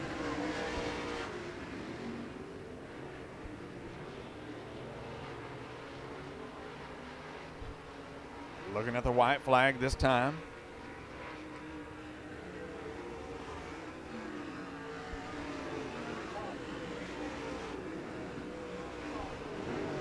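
Sprint race cars lap Devil's Bowl Speedway with a constant engine roar under an announcer's voice, and one car screams loudly past up close for about a second before the field's drone settles back.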